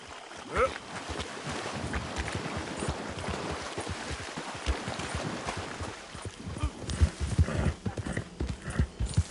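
Horse hooves clip-clopping at a steady gallop in the Red Dead Redemption 2 video game, a continuous rhythmic patter of hoofbeats with occasional louder thuds, close and fairly loud, with a voice briefly heard.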